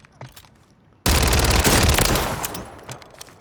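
An SMG in a video game opens up suddenly in a loud, sustained rapid-fire burst of dense, close shots that tails off slightly toward the end after a quiet lead-in.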